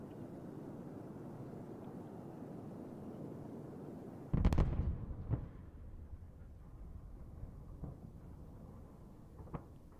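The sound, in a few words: SpaceX Starship booster explosion after landing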